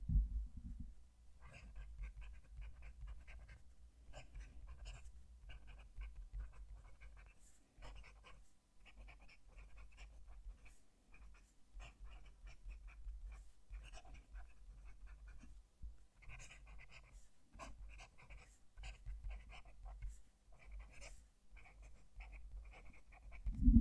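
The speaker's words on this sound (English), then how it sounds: "I'm going to move the mic to the page so you can hear the pen write." A fountain pen nib scratches across 100 GSM Ayush paper with a bit of tooth, recorded close to the page, as faint, intermittent strokes with short pauses and no talking.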